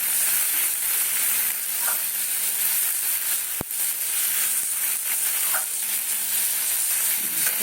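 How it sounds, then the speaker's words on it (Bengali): Steady, close sizzling and crackling of spices and capsicum frying in a hot pan, with a brief sharp click partway through. "ক্যাপসিকামটাও পুড়ে যাবে না অথচ এই মশলাগুলো সুন্দর ভাজা হয়ে যাবে"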